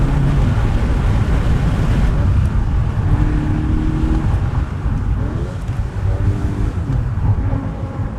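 A first- or second-generation VW Golf GTI drives with an open cabin, loud buffeting wind roaring into the microphone over the low, steady drone of the engine and road.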